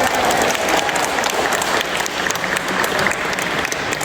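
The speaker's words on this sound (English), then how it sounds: "A big round of applause." An audience at an Asian American Heritage event in the Surrogates Court building in Manhattan applauds steadily, a dense wash of many hands clapping with no break throughout.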